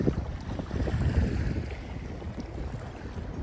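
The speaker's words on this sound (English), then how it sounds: "Just a little windy." Steady wind rushes and buffets the microphone, with low rumbling gusts and a hint of water in the background, on the Dead River in Maine approaching Brassua Dam.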